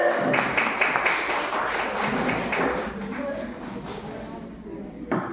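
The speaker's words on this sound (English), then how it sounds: "Clap for sir." A group of people claps for a teacher, brisk uneven claps that thin out after a few seconds, with voices talking over them.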